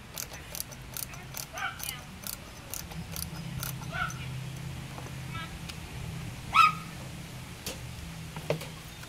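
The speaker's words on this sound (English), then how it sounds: "you can hear the dogs in the background." Dogs bark faintly in the distance, a scattering of short yelps behind a low hum and occasional nearby clicks.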